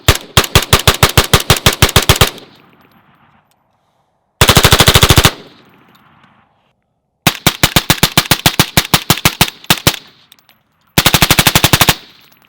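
Rapid strings of suppressed 300 Blackout rifle fire through a Surefire suppressor, four loud, close bursts of quick sharp cracks separated by brief silences, with no talking.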